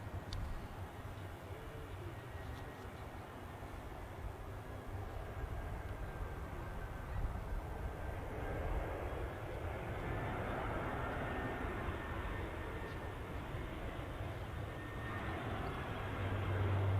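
An orange EasyJet airliner flies near Manchester Airport, a steady distant engine roar that swells slightly toward the end against open outdoor air.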